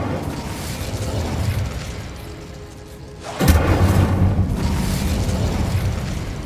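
A fiery Incendio spell blast from the Hogwarts Legacy video game bursts in suddenly partway through, a loud whooshing boom that swells over steady game ambience and then sustains as a broad roaring rumble.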